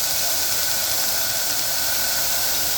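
Msemen flatbread sizzles in butter in a frying pan, a steady loud hiss of frying with no pauses and no talking.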